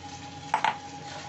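Spinach paste frying in oil in a pan, stirred with a utensil: two quick scraping stirs over a steady, soft sizzle close by.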